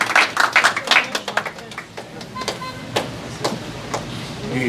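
Scattered hand claps from a mushaira audience as the poet Dr. Saadat Saeed is invited to recite, sparse and uneven, fading into quieter background over a few seconds.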